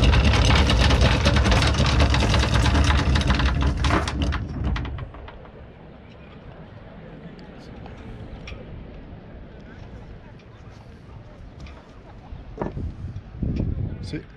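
A loud boat engine idles with a rumbling drone off Ibiza, then cuts off, leaving quiet outdoor ambience with faint birds and a voice nearby.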